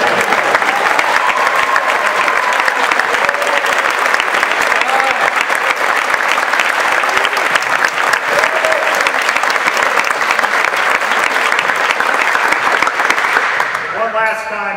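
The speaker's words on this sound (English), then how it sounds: "One last time, a round of applause for Danny Stirt" Loud, sustained applause from a school crowd at an athlete signing day, dense continuous clapping with a few cheers and voices rising through it before it tapers off at the end.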